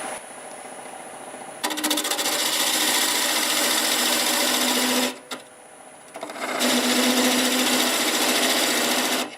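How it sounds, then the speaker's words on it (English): Half-inch bowl gouge cutting a tenon on sequoia end grain at a wood lathe, a steady loud scraping hiss in two long passes separated by a short lull. "we'll go ahead and cut that tenon on there with the 1/2 inch bowl gouge"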